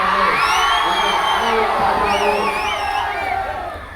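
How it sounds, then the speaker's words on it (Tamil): A large crowd at a Tamil community event for Rocket Raja Nadar cheers loudly, with whoops and shrill shouts rising over a dense roar that fades slightly near the end. "இந்த கரகோஷம் தான் பத்தாது"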